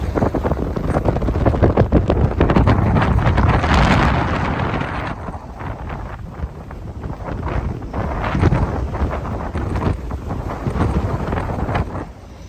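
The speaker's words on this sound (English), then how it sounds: "the wind was pretty brutal" Strong wind roars and buffets a boat lying at anchor off the Bluff docks in New Zealand, a loud, continuous rush with gusting surges and heavy microphone buffeting throughout.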